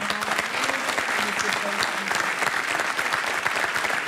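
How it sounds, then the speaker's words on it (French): A game-show studio audience applauds continuously and loudly for a contestant, a dense rhythmic patter of clapping with a voice speaking faintly underneath. "On vous applaudit."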